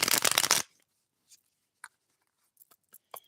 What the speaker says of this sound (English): behind the scenes, I'm shuffling the hidden oracle